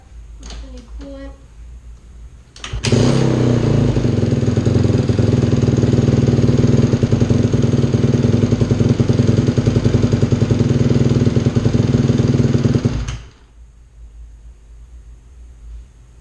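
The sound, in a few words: Honda CRF150R dirt bike engine starting up and running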